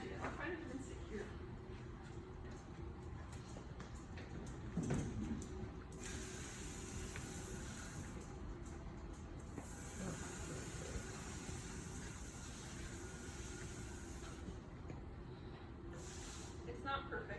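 Running water rinses a drypoint printing plate, a steady hiss and splash with louder bursts as the flow strengthens, under occasional nearby talk.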